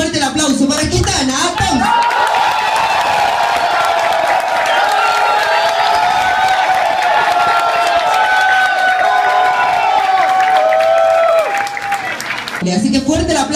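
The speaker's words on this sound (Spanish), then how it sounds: "Así que tiene que ser fuerte el aplauso para Quintana." A studio audience on a televised casting show applauds and cheers loudly and steadily for a contestant, a dense wash of clapping and shouts sustained for about ten seconds, with a host speaking briefly before and after.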